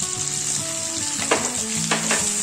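Chopped capsicum frying with onions in a pan, a loud close sizzle with a couple of stirring scrapes and spatters, no voices.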